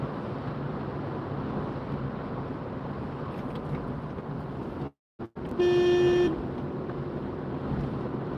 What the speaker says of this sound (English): that was definitely a horn honk